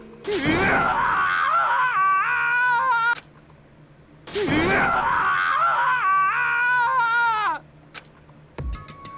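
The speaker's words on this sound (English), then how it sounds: "As Taka's sad screams invaded our skulls" A character screaming in sorrow in the video game Danganronpa: Trigger Happy Havoc with Japanese voice acting, two long, loud wailing cries with wavering pitch separated by a brief pause, followed by a short sharp sound.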